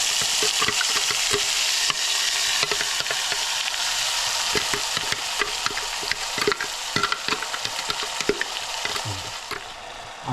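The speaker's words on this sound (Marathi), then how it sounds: "आता आपण ह्याच्यामध्ये टाकूया बनवलेला मसाला वाटण" Ground masala paste sizzles and fries in hot oil in a tadka while being stirred, a steady loud crackle with frequent clicks and scrapes of the spoon against the pan throughout.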